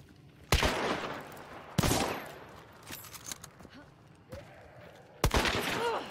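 Gunshots in a video game: a few loud, sharp reports spaced several seconds apart, each ringing out briefly, with quieter game noise and someone talking in between.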